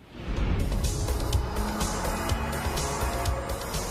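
Ferrari 360 Modena sports car engine, a loud continuous roar with steady broadband rumble that swells slightly as the car passes, close and dominant throughout with no voices.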